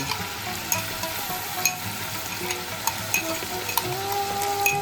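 Ginger-fried oil in a pan takes a spoonful of water-free onion paste for a prawn malai curry, crackling and sizzling steadily up close, with scattered spoon taps and scrapes over the continuous fry.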